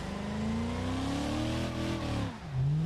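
A truck engine in a driving video game revs steadily upward, holding a loud, rough drone before dropping and surging again at the end, with no talking over it.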